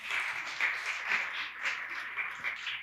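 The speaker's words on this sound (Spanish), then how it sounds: "Un aplauso," A church congregation gives a soft, steady round of clapping, distant and faint, a continuous patter of many hands without talk.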